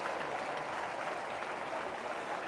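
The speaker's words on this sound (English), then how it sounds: "Got that round of applause." Crowd applause at a castellers human-tower festival in Barcelona, a dense, steady wash of many hands clapping for the whole stretch, with no voices standing out.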